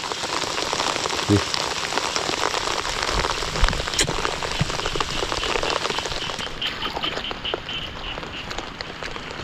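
Steady, heavy rain patters on surfaces throughout, a dense hiss with occasional louder drops, continuous and close.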